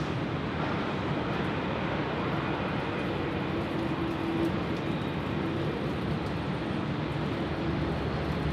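An airliner, United 870, departs Sydney Airport bound for San Francisco, its engines a steady, broad roar with a faint tonal whine, sustained and even throughout with no voices.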